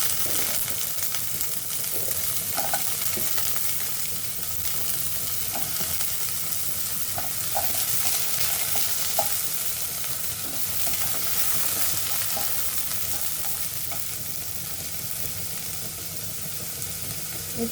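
Potatoes sizzle steadily in hot oil in a pan for a homestyle fish, potato and pointed gourd curry, with close scraping and stirring noises throughout and no talking.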